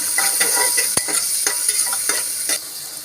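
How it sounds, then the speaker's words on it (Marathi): Ginger, garlic and coriander paste with chopped tomato sauté in a pan for a mutton sukka, a close, steady sizzle broken by quick, regular scraping strokes of a spoon stirring the mixture. "आता हे चांगलं परतून घेणार आहोत"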